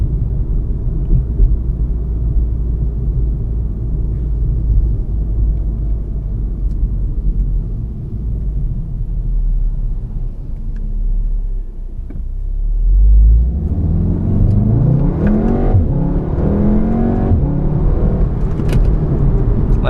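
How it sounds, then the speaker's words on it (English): VW Golf R fitted with a Neuspeed Power Module, heard from inside as a heavy steady engine rumble, then the revs climbing with a rising whir as the car accelerates hard. "Let me see if I could get it so that you can actually hear the turbo noise."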